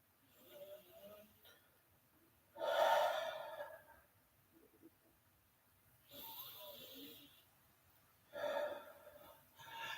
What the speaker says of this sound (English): I'm just going to take a few moments here just to breathe and slow down for a bit